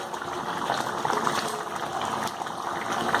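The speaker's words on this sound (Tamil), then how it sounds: "சன்னா நல்லா கொதி வந்துடுச்சு. தண்ணி கொஞ்சம் சுண்டிடுச்சு." Chickpea curry (channa masala) simmering in a pot, a continuous soft bubbling and gurgling with scattered pops, steady and close with no talk.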